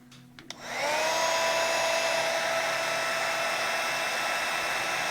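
A heat tool blowing hot air to melt embossing powder starts up with a click and whirs up to a steady, loud, high-pitched whine that holds continuously and close.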